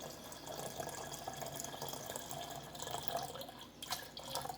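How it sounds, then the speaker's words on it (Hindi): Cold water is poured into green tea for Kashmiri chai, giving a quiet, steady trickling splash close by with a few drips. Nobody talks. "अब हम इसमें ठंडा पानी ऐड करेंगे।"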